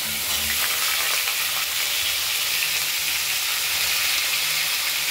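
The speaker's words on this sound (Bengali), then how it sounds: "আমরা কড়াইয়ে তেলটা গরম করে পাঁচ ফোড়ন দিয়ে নিয়েছি" Loud, steady sizzling of panch phoron (five-spice mix) frying in hot oil in a wok, a dense crackling hiss that continues without pause and without voices.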